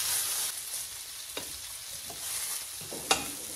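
Chicken pieces, about half of 22, frying in a home cooking pan, with a steady broad sizzle and a few louder crackles and stirring knocks, fairly close with no talk.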